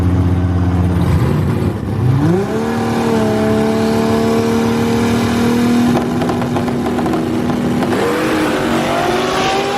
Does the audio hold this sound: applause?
no